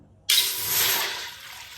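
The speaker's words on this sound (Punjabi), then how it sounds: "ਇੱਕ ਗੜਵੀ ਆਪਾਂ ਭਰ ਕੇ ਪੂਰੀ ਇਹਦੇ ਵਿੱਚ ਪਾਣੀ ਪਾਤੀ ਆ" Water poured from a full jug into a new pot for kheer, a sudden steady splashing gush that starts abruptly and runs on continuously, close and fairly loud, with no talk.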